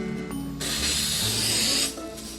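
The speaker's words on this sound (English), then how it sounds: "Ready to spray your pan down real quick. This is coconut oil cooking spray." Coconut oil cooking spray hisses onto a pan in a single continuous burst of about a second and a half, loud and close, with small handling clicks before and after.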